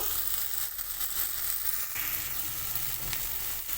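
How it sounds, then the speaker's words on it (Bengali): Spice masala and fried potatoes for a sea crab curry sizzle steadily in a hot pan while being sautéed, a dense, loud, continuous frying hiss with faint stirring scrapes, close up and with no talking. "দিয়ে দিয়েছি ভেজে রাখা আলু দিয়ে আরও একটু কষিয়ে নেব"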